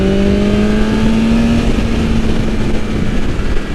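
A 2020 BMW S1000RR motorcycle pulls at full throttle, its engine a loud, steady high-pitched drone with one smoothly sustained, slowly rising tone and a constant roar of wind and road underneath, no talk.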